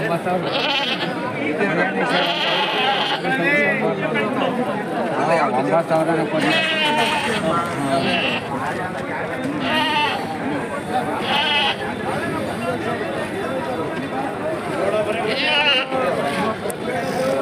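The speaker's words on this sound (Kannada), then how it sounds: "ಹೆಣ್ಣು ಕುರಿ ಬರೋದಿಲ್ಲ, ಗಂಡು ಕುರಿ ಇದು." A ram bleats repeatedly through a loud, busy crowd at a sheep and goat market in Gubbi, with people talking all around and the animal's calls rising over the chatter.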